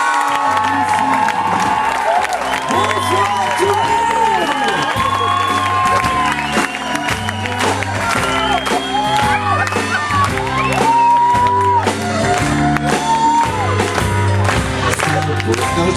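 Audience at a school revue show clapping and cheering with whoops and shouts over loud, pulsing music with a steady beat, a lively continuous crowd roar throughout.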